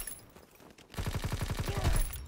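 Gunfire in Call of Duty WWII, a burst of about a dozen evenly spaced, loud automatic shots that begins after a quieter stretch of game ambience and keeps a steady rhythm to the end.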